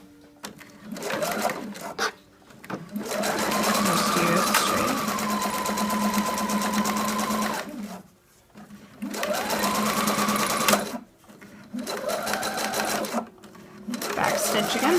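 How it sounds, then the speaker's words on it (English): A sewing machine runs straight stitching along a pocket hem in several steady bursts with brief pauses between, close and fairly loud, with a low motor hum and a rapid needle rattle. "So you'll just do a regular straight stitch."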